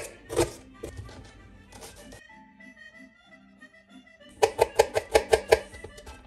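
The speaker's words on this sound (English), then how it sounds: "Let's start by chopping the shallots." Knife chopping shallots on a board in a kitchen, a rapid run of sharp taps near the end after a few earlier cuts, close and clear with no talking.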